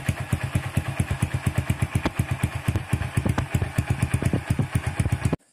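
Motorcycle engine idling through a homemade chicken pipe exhaust, a loud, close, rapid and even popping putter that continues steadily and then cuts off abruptly at the end.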